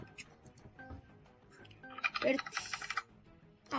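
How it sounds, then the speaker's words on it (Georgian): A computer keyboard clatters in quick, uneven bursts of typing while someone plays the shooting game Rivals, with the keys growing louder and denser midway as people talk over it. "ძმა, შენი კლავიატურის ხმა ისე მაგრად ისმის ხომ იცი?"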